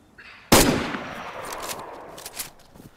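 A single sharp, loud gunshot in the video game DayZ, followed by a trailing echo and faint scattered sounds, with no talk over it.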